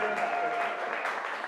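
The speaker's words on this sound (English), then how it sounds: "let's give a round of applause for everybody presented" A short burst of crowd applause, many hands clapping densely and evenly at moderate distance.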